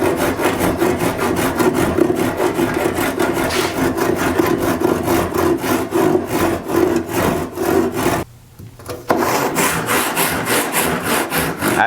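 A handsaw crosscuts a wooden board in steady, rhythmic back-and-forth strokes, loud and close, with a short pause near the end before the sawing resumes.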